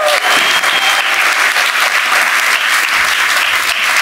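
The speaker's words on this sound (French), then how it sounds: "Encore quelques applaudissements pour Chloa pour l'encourager" A TV studio audience applauds a young contestant on a children's game show, with dense, loud, continuous clapping filling four seconds.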